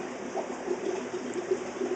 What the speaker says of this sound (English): we're siphoning the brine shrimp out for the gut loading